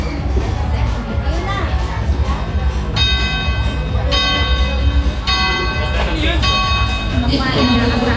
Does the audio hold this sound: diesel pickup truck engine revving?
no